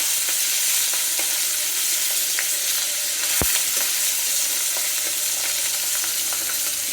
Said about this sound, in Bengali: তো ইলিশ মাছ বেশি ভাজতে হয় না, তাহলে কিন্তু খেতে ভালো লাগে না, এই জন্য অল্পই ভেজে নেব।